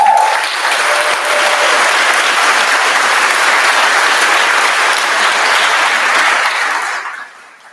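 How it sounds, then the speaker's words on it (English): A large graduation audience at a high school ceremony breaks into loud, sustained applause that holds evenly for several seconds before fading out at the end. "Round of applause."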